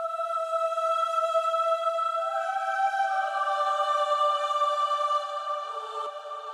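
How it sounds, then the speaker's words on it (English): A choir track, processed to blend with a reed patch, holds sustained layered chords with no talking, shifting harmony midway before softening near the end. "And it's blended with a choir track"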